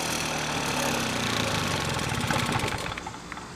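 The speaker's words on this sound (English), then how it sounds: "Oh, it's kind of idling too." The two-stroke engine of a 1979 Motobecane moped runs steadily nearby, a continuous buzzing, slightly knocking idle that holds throughout.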